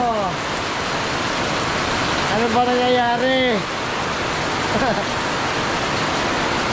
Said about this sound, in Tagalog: Oh, lumalakas na ang ulan.